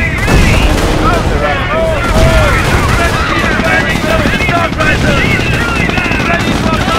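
Rapid gunfire rattles without pause in the World War II strategy game Company of Heroes during an Operation Market Garden mission, loud and dense, with shouted voices and other battle noise mixed in.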